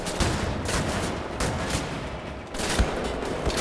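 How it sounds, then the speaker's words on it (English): Gunfire from Nazi soldiers in Wolfenstein: The New Order, a dense, steady barrage of rapid shots rattling throughout with a few heavier bursts standing out, no talking. "There's Nazis shooting at you"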